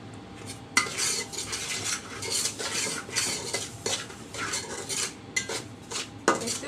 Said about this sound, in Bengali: শুধু জাস্ট সুজিটাকে একটু শুকনা বেজে নিচ্ছি একদম লো আছের মধ্যে